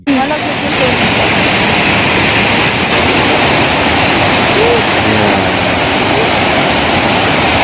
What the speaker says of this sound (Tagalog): ang napaka-relaxing ng tunog ng tubig